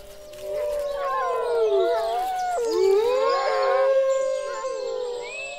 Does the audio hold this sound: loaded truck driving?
no